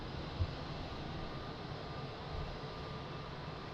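Large airliners taxiing at Lisbon Airport, a steady, distant, low jet-engine rumble and hum that stays faint and even throughout.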